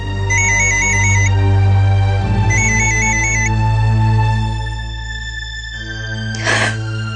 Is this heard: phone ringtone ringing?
yes